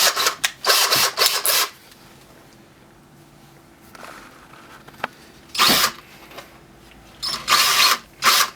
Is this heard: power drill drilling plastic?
yes